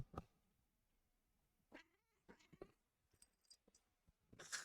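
Echo the cat lets out a few faint, short meows and caterwauls amid quiet pauses and scattered soft clicks, ending with a louder burst.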